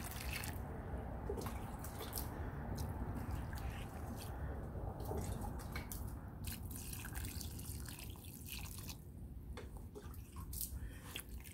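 Water is poured onto a freshly planted rosemary cutting in soil, a faint, steady trickle and drip with soft splashes that runs for several seconds without speech.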